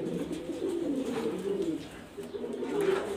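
Pet pigeons kept for sale in Mirpur, Dhaka, coo softly in low, rolling murmurs, close by and fairly quiet.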